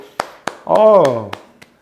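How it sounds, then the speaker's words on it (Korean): A few sharp, separate hand claps ring out close by, sparse and uneven, with a short spoken voice breaking in between them. "박수 쳐주세요"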